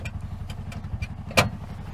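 A tuk-tuk's small engine runs steadily while the three-wheeler reverses, a fast even putter close by, with a brief sharper mechanical click partway through and no talking.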